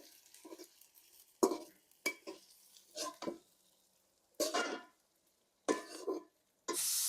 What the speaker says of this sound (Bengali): হালকা করে ভেজে দিব। এবার আমি একটু গোটা জিরে দিয়ে দেব